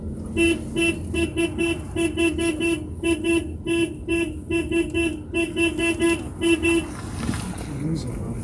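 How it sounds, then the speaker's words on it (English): A car horn toots in a quick series of short, loud beeps, repeating in bursts over several seconds against engine noise. "we are just going to give him a honk just to say that we are alive"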